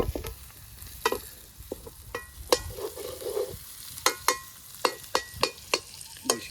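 Pork meat frying in a kadai, stirred with a metal ladle that knocks and scrapes in a steady rhythm of sharp clanks over a soft sizzle, close and clear with no talking.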